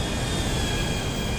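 A private jet's engine in the video game GTA V runs as a steady, loud whining roar with a thin high tone on top. It holds level throughout, with no talking.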